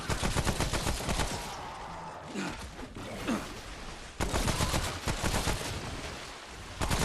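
Rapid bursts of video game gunfire crackle loudly in quick succession, broken by short pauses before the firing resumes.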